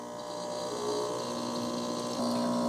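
A De'Longhi combination coffee and espresso machine pumps hot water through the portafilter with a steady, loud mechanical hum and buzzing drone that rises slightly in pitch partway through.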